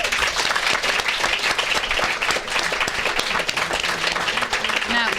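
A seated audience at a sustainable-fashion panel discussion bursts into dense, sustained applause that fills the room, with voices mixed in beneath the clapping.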